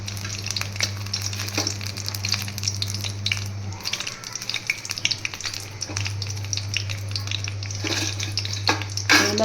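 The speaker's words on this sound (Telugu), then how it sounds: "నూనె పోసి దీంట్లో ఎండుమిరగాయలు వేస్తున్నాను అనమాట" Dried red chillies frying in hot oil, a dense close crackle and sizzle with stirring scrapes, over a steady low hum from nearby equipment that drops out briefly midway.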